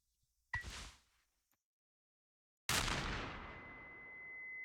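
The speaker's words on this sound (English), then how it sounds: "I shot the ground." In the video game Mouthwashing, a gunshot is fired into the ground: a short sharp crack first, then after a pause a loud booming blast whose long ringing tail fades slowly under a steady high tone.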